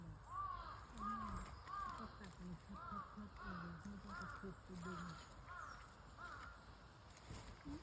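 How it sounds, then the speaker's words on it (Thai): A crow caws repeatedly in a steady rhythmic series of harsh calls, fairly close, with faint background noise and occasional soft sounds underneath. "มันร้องยังไงของมันอีกาตัวน"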